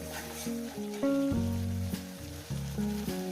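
Spinach curry ingredients being sautéed in a pan on a gas stove give off a steady, soft sizzle beneath louder tonal background music.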